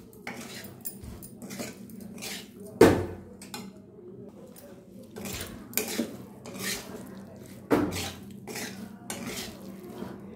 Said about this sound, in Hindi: नमक को अच्छे से मिक्स कर देते हैं।